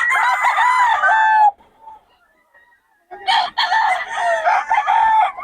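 Stag roosters crow loudly at a market, one long crow, a short pause with faint clucks, then another crow overlapped by more birds close by.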